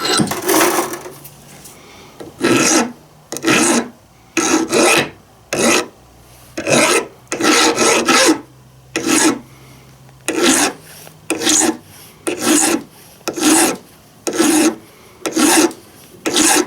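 A hand file rasps a burr off the end of a metal oil line in about a dozen short, regular back-and-forth strokes, each a close, bright scraping burst with quiet gaps between them.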